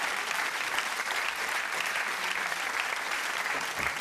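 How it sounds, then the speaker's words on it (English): Audience applause fills the room at a game show called Timeline, a steady dense clapping that holds at full strength from start to end with no voices over it. "Give them a round of applause, ladies and gentlemen."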